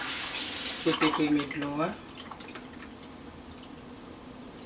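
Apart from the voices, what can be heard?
washing rice in water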